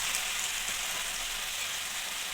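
Vegetables coated in spice paste stirred in a pan for a Boroli fish dish, giving a steady, close sizzle with soft scraping throughout and no voices.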